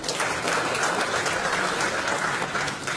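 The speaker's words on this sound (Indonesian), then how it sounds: "tepuk tangan dulu." Audience applause at a meeting of national figures, a dense continuous clapping that holds steady for several seconds with no voices above it.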